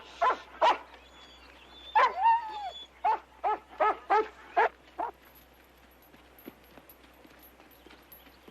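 Dogs bark repeatedly in a western setting, a run of sharp, fairly close barks with a drawn-out whimpering whine among them, then a quiet stretch with a faint low hum.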